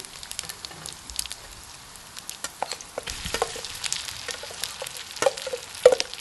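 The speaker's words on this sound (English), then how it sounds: "keep stirring, making sure it stirs very fast" Rice with Chinese sausage stir-fried in pork lard, close crackling sizzle broken by quick, irregular scraping strokes of a spatula in the pan, growing busier toward the end, with no voices.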